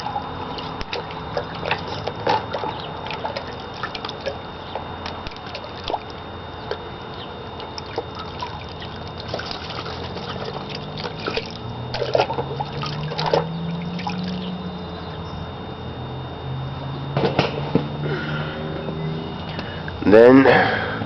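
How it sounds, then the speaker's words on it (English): A gun magazine part dunked and scrubbed in a container of water, intermittent splashes, drips and trickles, close and fairly quiet, with a louder swish near the end. "then dunk it in the water and continue to scrub"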